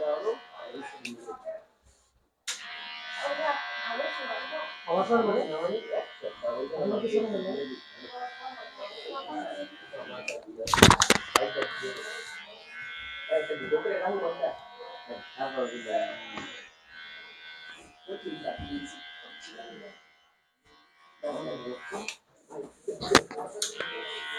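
An electric hair clipper buzzes in bursts while cutting hair, a droning whine that starts and stops between stretches of someone talking close by, with a few sharp knocks and clicks.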